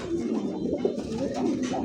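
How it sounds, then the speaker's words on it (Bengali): A Tiger Bombay pigeon calling: a close, continuous low throaty cooing that rolls and pulses without a break for a couple of seconds. "এই যে বোম্বাই কবুতর যে ডাক, মোর বেরিয়ে এসে ডাকটা দেখি"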